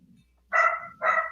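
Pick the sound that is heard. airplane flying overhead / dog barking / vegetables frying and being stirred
dog barking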